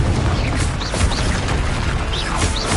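A Confringo blast spell explodes in Hogwarts Legacy, a dense, loud booming burst with crackling debris and whooshing magic that sustains throughout, with no talk.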